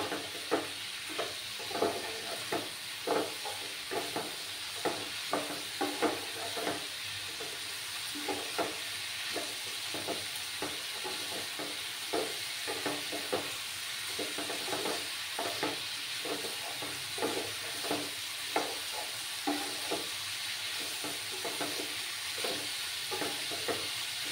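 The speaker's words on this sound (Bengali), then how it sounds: "আরও কিছুক্ষণ আমি কষিয়ে নেব, যতক্ষণ না মশলাটা থেকে তেল ছাড়তে শুরু করেছে" Spiced masala with mixed vegetables and egg stir-fried over a high gas flame, a steady sizzle broken by regular spatula scrapes and taps at a roughly even rhythm, close and without speech.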